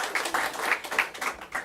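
Crowd applause at the unveiling of a digital wastewater operations center, a brief steady patter of many hands clapping, moderately close and filling the whole moment.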